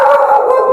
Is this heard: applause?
no